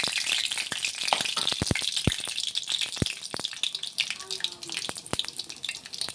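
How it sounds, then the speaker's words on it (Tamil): Mustard seeds and urad dal sizzle and crackle in hot oil, a continuous hiss broken by scattered sharp pops, heard close, with a voice talking over it. "இப்போ சிறிது கடுகு போடுறோம். சிறிது கடுகு, உளுத்தம் பருப்பு,"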